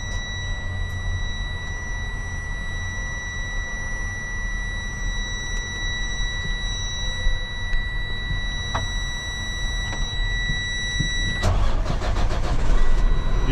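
A GMC C5500 truck engine turns over and settles into a steady mid-pitched idle near the microphone, with high electronic tones and a beeping warning buzzer sounding throughout, growing louder toward the end.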